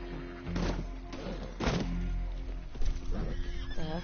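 A horse neighs in Red Dead Redemption 2, two or three whinnies over a rumbling game background with thuds and hoof sounds, moderately loud and close.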